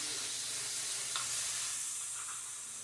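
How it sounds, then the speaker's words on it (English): Chicken curry with yogurt sizzles in a hot pan, a steady soft frying hiss that runs throughout, with a few faint stirring clicks. "Sizzle, baby."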